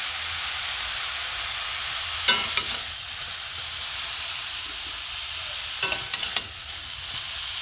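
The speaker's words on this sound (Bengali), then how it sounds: "শুকনো খোলায় আবার পাতাগুলো ভাজা হয়ে গেছে" Tharkol leaves dry-roasting in a dry pan, a constant soft steamy hiss broken by two short bursts of scraping and stirring.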